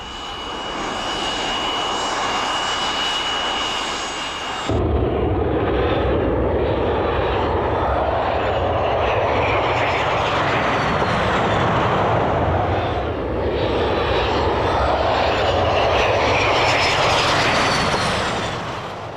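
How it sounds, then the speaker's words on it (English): Engine noise from a Lockheed F-117 Nighthawk stealth fighter jet, a loud, continuous broadband roar that suddenly shifts in tone and then swells and fades gently over about twenty seconds. "From the front, there is a high-pitched whine, while from the rear, there is only a faint rumble."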